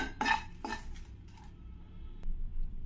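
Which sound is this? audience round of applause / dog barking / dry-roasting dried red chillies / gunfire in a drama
dry-roasting dried red chillies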